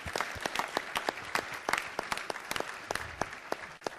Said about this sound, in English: A special round of applause to my wonderful volunteers